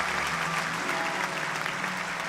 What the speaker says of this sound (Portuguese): aplauda mais forte, vai